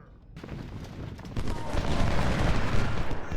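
Musket volleys and artillery in Ultimate General: Civil War form a dense, crackling roar of gunfire that swells and stays loud, with no voices.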